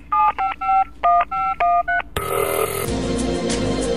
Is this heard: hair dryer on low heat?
no